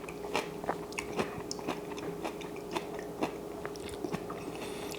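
Close, crisp biting and chewing of crunchy homemade kimchi, with steady wet crunches and jaw clicks repeating over several seconds with no talking.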